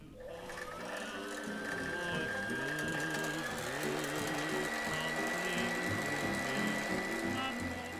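Sewing machine running steadily while stitching straight seams on a 1920s-style dress, a continuous mechanical whir and rapid needle clatter held close for the whole stretch, with a high motor whine rising early on.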